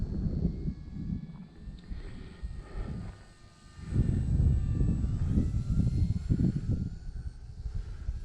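Radio-controlled E-flite T28 model airplane flying outdoors in a breezy side wind, its electric motor whine drifting steadily at moderate distance with wind buffeting, swelling louder in the second half as it passes overhead.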